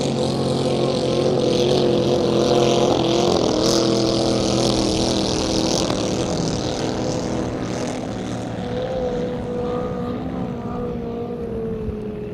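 Vintage racing powerboats roar down the backstretch on the final lap, a loud, sustained high-pitched engine drone with steady harmonic whine that swells and slowly fades as the boats run past.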